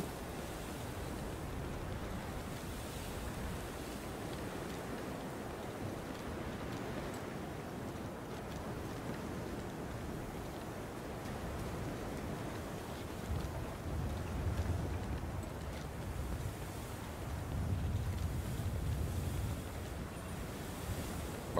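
A storm in The Division 2 rolls on steadily, with dense rain hiss and gusting wind forming a broad, continuous wash that swells slightly toward the end, and no voices over it.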